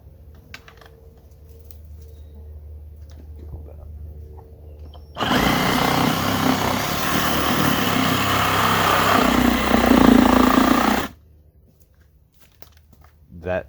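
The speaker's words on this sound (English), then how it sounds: "I have no idea what the best way to cut a tire is, so I'm just going for it with a reciprocating saw." A reciprocating saw cuts into a tire in one loud, rasping, buzzing burst of about six seconds, with quieter handling noise before and after.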